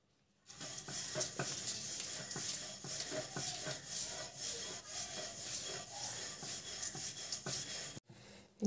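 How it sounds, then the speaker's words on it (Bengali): Rice flour chapati dough being rolled out by hand, a steady rough rubbing and scraping of the rolling pin with rhythmic pushes, close and continuous, with no talking. "মা রুটিগুলো বেলে নিচ্ছে।"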